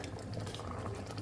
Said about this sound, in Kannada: ಬೆಲ್ಲ ಹಾಕಿದ್ಮೇಲೆ ಈ ಥರ ಕುದಿಸ್ಬೇಕು